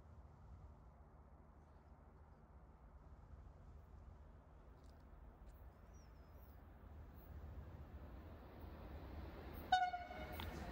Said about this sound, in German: Hört man, wie ich aus Versehen an der Pfeife hängen geblieben bin.